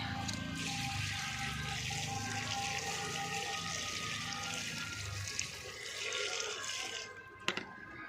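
Water poured from a container onto garden plants gives a soft, continuous splashing trickle that eases off after about five seconds, followed by a brief knock near the end.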